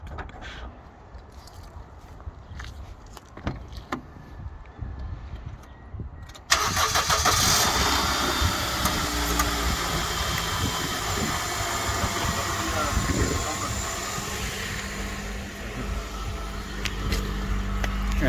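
Worn 190 horsepower car with 414,000 km: after some clicks and knocks, the engine cranks and catches abruptly, then settles into a loud, rough, steady idle close by.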